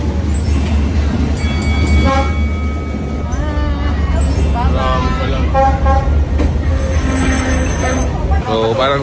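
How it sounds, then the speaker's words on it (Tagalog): Passenger train passing through a busy tourist street in Vietnam, rumbling steadily and sounding a couple of loud horn toots, all under dense street noise and crowd chatter. "yan yung train"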